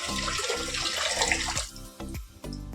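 Water runs hard from a tap into containers, a loud rushing stream that breaks off and gives way to a few sharp splashes and clinks near the end.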